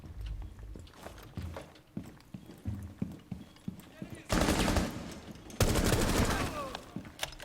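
Bursts of automatic gunfire in the tactical shooter Rainbow Six Siege, two loud sustained volleys after scattered quieter shots and footsteps, with a voice briefly talking earlier.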